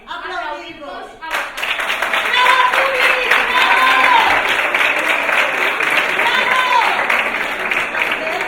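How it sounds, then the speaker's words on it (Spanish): Audience applause swells after a brief spoken line at a school theatre show, sustained dense clapping filling the room, with voices and cheers rising over it. "ara ens toca a nosaltres aplaudir-vos"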